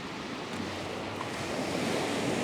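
Ocean waves washing up on the shore at sunrise, creeping toward a tripod; a loud, continuous rushing surf with wind buffeting the microphone, no talking.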